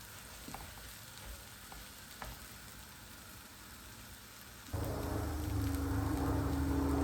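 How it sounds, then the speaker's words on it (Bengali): Mung and masoor dal frying in a pot give a soft, steady sizzle, which grows louder and denser partway through as stirring continues. "একটু ভেজে নিব, তারপর আমি এটা পানি দিয়ে দিব।"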